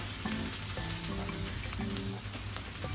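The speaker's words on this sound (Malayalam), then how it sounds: "ഇനി പച്ചമുളക് ഇഞ്ചി വെളുത്തുള്ളി നല്ലോണം ഒന്ന് വയറ്റെടുക്കണം" Green chili, ginger and garlic fry in a pan for jackfruit pickle, giving a loud, close, continuous sizzle with intermittent stirring scrapes. No one speaks.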